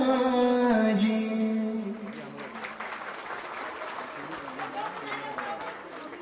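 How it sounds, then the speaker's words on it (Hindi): Applause from the audience at an International Women's Day award and honour ceremony held by a social organisation in India, swelling as a sustained wash of clapping after a held vocal line fades, with a voice over it at the start. "पुनः एक बार फिर से जोरदार तालियां"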